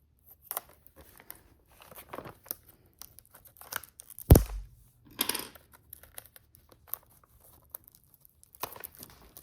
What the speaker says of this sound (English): Get a little knife to open this with.